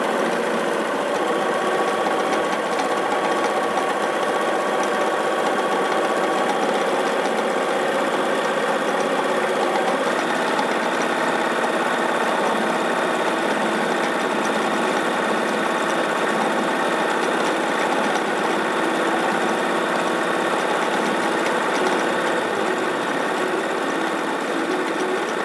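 A heirloom embroidery sewing machine runs continuously, stitching a fill area into an outline, a loud, even mechanical whir with rapid needle rhythm that never pauses.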